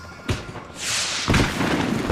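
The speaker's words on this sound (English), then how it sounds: "The fireworks display was clearly in my honor" Fireworks going off in the Max Payne 3 video game: a sharp thump near the start, then a long crackling burst and another heavy bang with a lingering rumble, loud and dense.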